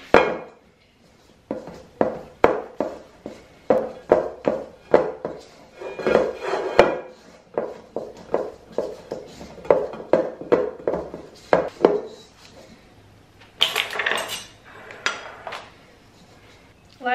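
Dry gingerbread cookie dough mixed in a bowl, a steady series of close, dull thumping and knocking strokes in quick succession, pausing briefly, with some scraping near the end and no talk over it.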